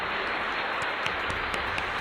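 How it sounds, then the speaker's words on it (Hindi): A seminar audience applauds in a steady, dense wash of clapping that runs without a break, fairly faint and distant. "इनके लिए एक बार जोरदार ताली"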